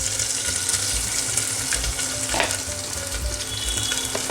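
Two medium onions frying in a pot for broken rice pulao, a loud dense sizzle that stays constant throughout, with faint stirring sounds underneath.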